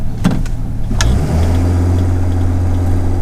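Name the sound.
Jaguar E-Type engine accelerating off the line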